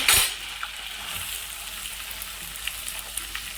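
Onions sizzling in a little hot oil in a pan, a steady close frying hiss with a loud initial burst as they go in, plus faint scattered stirring clinks.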